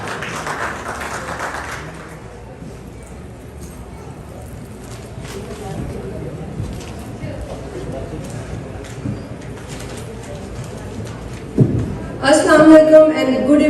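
Audience applause at an Eid Milan celebration hosted by PakUS Media Pacoli, a short burst of clapping in the first two seconds that fades into hall murmur and voices, with a louder stir near the end.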